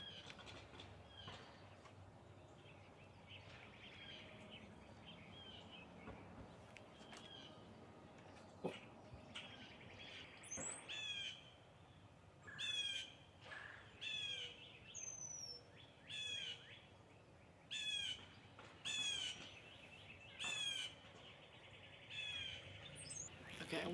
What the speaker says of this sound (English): there have been some moments where there's a lot of birds singing